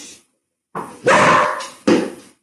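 A small dog yips and barks a few times in short bursts, close by, with brief silences between.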